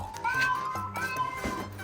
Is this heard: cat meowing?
yes